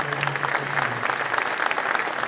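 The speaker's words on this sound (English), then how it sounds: "Big round of applause" Audience applause after a call for a big round for a NASCAR driver's final-race season recap, a steady dense wash of many hands clapping, moderately loud and continuous throughout.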